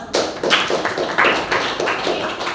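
An audience in a classroom-style presentation session gives applause, a short run of fairly rhythmic, evenly spaced claps from a small group, close and steady.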